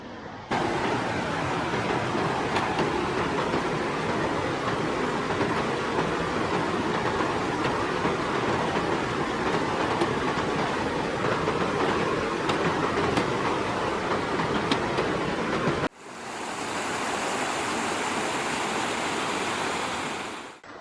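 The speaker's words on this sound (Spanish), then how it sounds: "En medio del desierto, encontrar esta caída de agua rodeada de vegetación es como descubrir un pequeño oasis" Waterfall pouring in a green oasis along the North Kaibab Trail in the Grand Canyon, a loud, steady broadband roar that continues unbroken and close, then cuts briefly before resuming slightly thinner.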